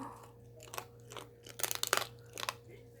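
A cream long-haired dachshund chews dry food up close, with crisp crunching bites that cluster into a quick burst in the middle before tapering off, against a quiet room hum.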